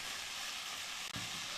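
Steady loud sizzling hiss of ginger and garlic stir-frying in a hot pan, broad and continuous, with a brief dip and a small clatter near the end; no talking.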